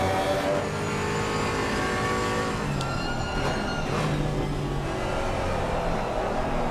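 Race cars lap Brands Hatch, engines droning and revving continuously at middle distance with shifting pitch as cars pass, loud and unbroken.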